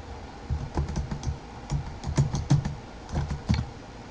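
Typing on a computer keyboard while entering a host IP address during a VMware vCenter Server 5 install, a steady run of close, soft key clicks in uneven bursts, with no talking.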